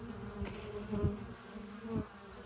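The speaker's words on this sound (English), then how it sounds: "Look at all these bees." Honey bees buzzing around a hive in spring, a dense steady drone with individual bees swelling louder as they pass close, no talk.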